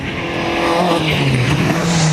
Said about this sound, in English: And Raymond Conlon and Darren McKay drive their little Toyota Corolla to a sideways 3rd place.